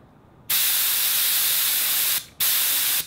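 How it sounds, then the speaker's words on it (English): An air-powered spray gun fed by an air compressor releases a loud, steady hissing spray in two long bursts separated by a short pause. "Now comes the spray, and you can really soak stuff."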